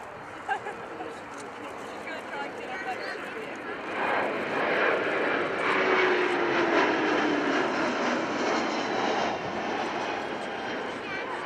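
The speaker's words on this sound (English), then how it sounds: "a good demonstration there of just how quiet this aircraft is as it flies past" A Kawasaki P-1 maritime patrol jet with XF7 engines makes a quiet flypast at the RIAT 2015 Fairford airshow, a smooth engine roar that swells and slowly fades, with a commentator speaking over it.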